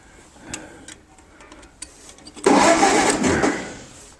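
A 1940 Case V tractor engine idles with a ticking rhythm, then surges into a louder, rougher roar for a couple of seconds as it is put in gear with the power takeoff, heard up close.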